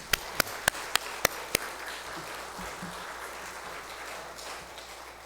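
In a church during a Sunday afternoon worship service, six sharp, evenly spaced claps ring out close by in the first two seconds, followed by a quiet room murmur.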